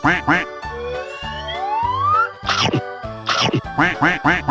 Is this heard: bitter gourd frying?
no